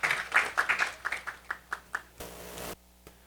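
An assembly at a Saturday religious gathering breaks into applause, a scattered run of claps from a modest crowd that thins out and fades within a few seconds.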